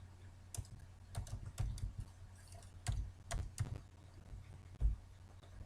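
Keys on a computer keyboard clatter in short irregular bursts while data is entered into an Excel spreadsheet, quiet and close, with pauses between clusters of keystrokes.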